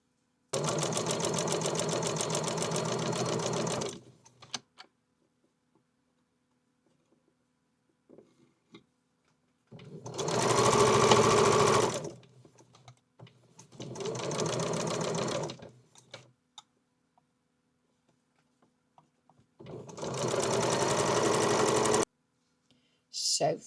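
A sewing machine stitching a log cabin quilt block runs in four separate bursts, each a few seconds long and close-up, with quiet pauses between runs.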